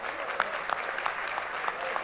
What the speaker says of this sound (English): I'm observing you are cheering better for the girls